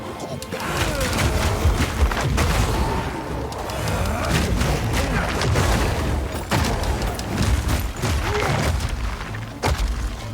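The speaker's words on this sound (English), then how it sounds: "That is a massive fucking explosion" A massive explosion in a warrior combat video game, with dense rumbling booms, thuds and crashing blasts rolling on loudly and continuously for the whole stretch.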